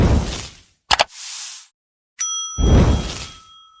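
A notification bell rings out as a sound effect, a bright ringing ding with sustained tonal overtones that decays slowly, set between whooshing swishes and a short rattling clatter, all loud and close with no speech.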